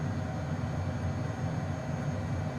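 Honda Jet engines held at takeoff power in a flight simulator, a steady, continuous jet roar with a low rumble, loud and unbroken throughout with no talking.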